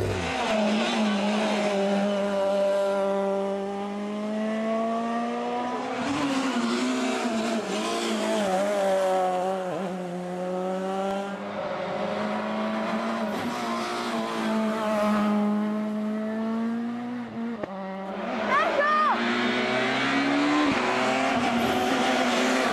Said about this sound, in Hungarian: Peugeot 207 Super 2000-esre hallgassuk meg az autót.